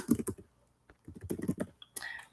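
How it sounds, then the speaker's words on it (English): Fingers typing on a computer keyboard nearby, quick bursts of clicky keystrokes with a short pause in between, ending in a few louder taps. "you're going to start by typing in the location of airport that you're going to"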